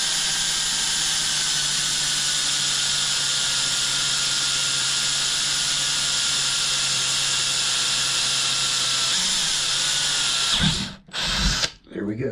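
A power drill whines steadily at high pitch through metal, loud and close, then abruptly stops and restarts in short bursts near the end.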